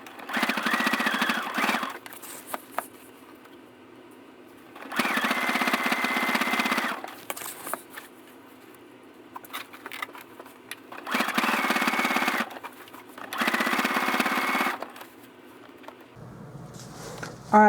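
A sewing machine runs in several bursts of a few seconds each with pauses between, back-stitching thick RV curtain fabric, close and steady, with no talking.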